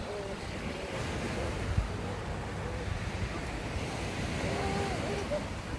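Sea waves washing onto a beach, a continuous broad surf roar with wind buffeting the microphone, steady and fairly loud with faint background voices.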